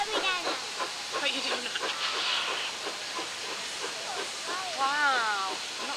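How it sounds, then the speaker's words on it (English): A steady hiss of escaping steam from a steam locomotive fills the clip, with people chattering nearby over it and a rail scene's background rumble. "Wow, lots of steam."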